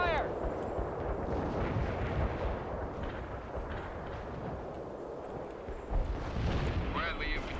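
Incoming artillery fire in the World in Conflict video game, a continuous rumble of distant booms and impacts with voices talking over it, a sharper blast near the end.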